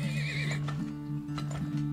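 A horse neighs loudly in the video game Turmoil, a long, clear whinny ringing out alone over a steady tonal background hum, with a faint clatter behind it.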